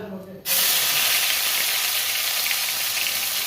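Mustard oil with ginger-cumin paste bursts into a loud, sudden sizzle in a pan after a brief quiet moment, then keeps up a steady, close frying hiss.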